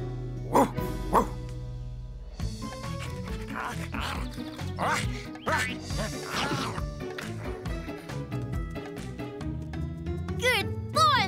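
A cartoon dog barks in short, repeated woofs and yips, mixed with other voices and background music; the barks come in a bright, bouncy rhythm.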